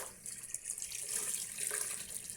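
A mug rinsed under a running kitchen tap, with a steady close hiss of flowing water and light splashing that continues throughout.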